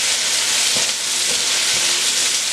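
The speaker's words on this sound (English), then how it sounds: "Now we're going to cook the onions for a minute or so before we add the garlic and ginger." Onions cooking in a hot pan for beef and broccoli, a loud steady hissing sizzle throughout with faint stirring thumps, no talk.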